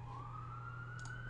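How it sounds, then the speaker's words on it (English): Emergency vehicle siren wailing outdoors, one steady rising tone that holds loud and continuous under a constant background hum, heard through a room while someone works at a computer. "Sorry about those sirens."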